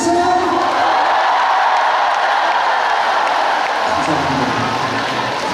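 A concert crowd at a Samsung Fire healing festival applauds and cheers for a singer, a dense, continuous wash of clapping and shouts that holds steady throughout.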